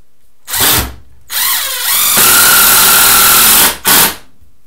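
A Ridgid X4 impact driver spins and hammers Torx-head Spax screws into wood in several loud, close bursts, one long rattling run between shorter whirs, with quiet pauses between.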